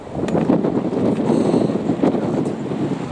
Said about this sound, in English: excuse this wind